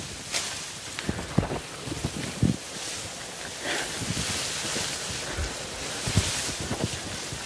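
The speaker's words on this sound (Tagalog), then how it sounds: "ang ragasan ng tubig, mga kabayan, dinig natin" Continuous broadband rush of a large river flowing through a forest, heard close by and steady, with irregular gusts of wind buffeting the microphone.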